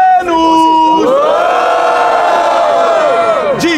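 A loud crowd roars and cheers at the grand final of a Brazilian street rap battle, a sustained wall of voices and whoops that swells after a brief shouted lead-in and holds steady for several seconds.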